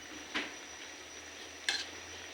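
A utensil stirs chop suey thickened with cornstarch in a pot, with two quiet scraping clinks against the pan about a second apart over a soft, low background.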